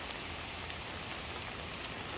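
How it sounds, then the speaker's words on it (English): Heavy rain from Hurricane Helene in Atlanta, Georgia, falling steadily as a dense, continuous hiss of drops with no gaps, close by and fairly quiet, with no voices. "in about an hour I got another 1/4 inch of rain."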